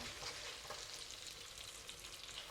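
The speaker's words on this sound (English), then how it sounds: "We just fry them until we can smell them." Dried chili and Sichuan pepper frying in a wok over moderate heat, giving a steady, dense crackling sizzle that stays even throughout, with no talk.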